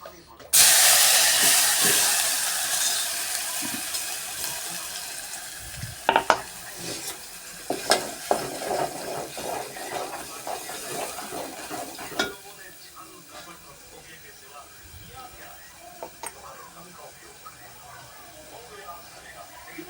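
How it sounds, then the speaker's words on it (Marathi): Loud hot-oil sizzle as spices are tempered bursts in at the start and gradually fades, followed by scattered stirring clatter and spatters, with quiet voices underneath. "चला तर मी फोडणी देऊन घेते."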